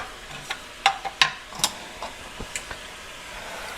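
Jamaican curry chicken sizzles softly in a pan, with a low steady frying hiss and several sharp scrapes and clinks as the pieces are stirred now and then. Nobody talks.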